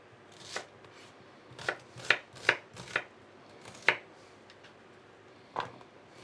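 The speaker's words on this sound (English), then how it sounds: "we're going to peel and chop up the onion as well" A knife chops an onion on a board in a scattered series of sharp, close taps, roughly eight clear hits with uneven gaps and softer knocks in between.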